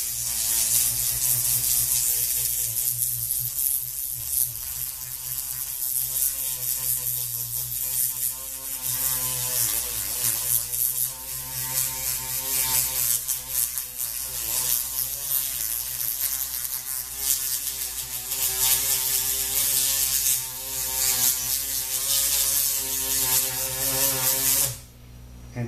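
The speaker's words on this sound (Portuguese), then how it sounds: "Durante toda a extensão da placa, eu utilizo a lixa para tirar a marca de broca." A rotary dental handpiece with a sanding bit smooths the whole surface of an acrylic dental appliance plate to remove drill marks, a continuous high whirring buzz that wavers as it presses and eases off, close up, with no talking.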